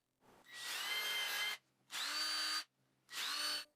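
A power drill bores fixing holes into wooden table saw jig pieces, whining loudly in three distinct bursts with brief quiet gaps between them, close by and alone.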